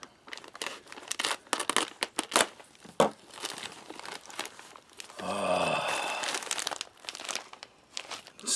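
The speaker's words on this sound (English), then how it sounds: "Let's slice into this thing." A plastic bag from a Latvian field ration crinkles and crackles in close, irregular bursts, followed by a longer tearing, rasping slice as it is cut open.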